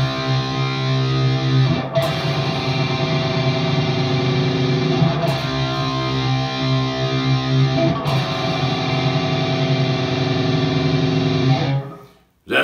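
A distorted electric guitar plays a metal power-chord pattern with alternate picking and palm muting, changing chords roughly every three seconds in a dense, sustained, loud drone, with no voices, then stopping abruptly.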